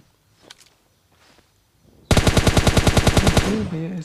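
SKS rifle gunfire in the video game PUBG Mobile Lite, a loud, rapid string of about a dozen sharp shots arriving suddenly after quiet, faint speech earlier, then a voice over the tail.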